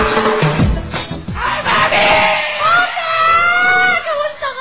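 Loud screaming and shrieking from several people on a TV show set, overlapping high cries that swell and fade with crowd noise underneath.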